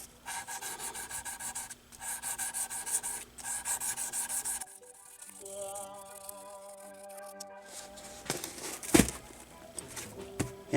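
A Hamer guitar is being worked over with 600 grit sandpaper in steady, close rubbing strokes, with repeated back-and-forth rasping passes that pause briefly before the scraping resumes.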